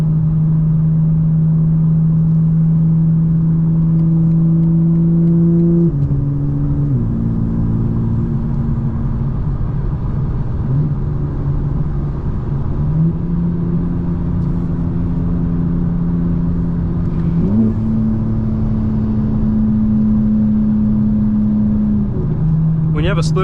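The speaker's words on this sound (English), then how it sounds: "And now I'm shifting gears on the way up to just smoothen out the car." A 2024 BMW M4 engine drones steadily at mid pitch, with its note dropping in distinct steps as it shifts up through the gears under moderate acceleration, heard close from inside the cabin with continuous road rumble.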